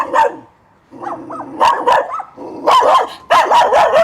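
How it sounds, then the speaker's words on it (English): Very small dogs bark near an abandoned theme park in China: several sharp, close, loud yaps come in quick bursts, with whiny growling tones between them and a short pause early on. "I'm being barked at by very small dogs"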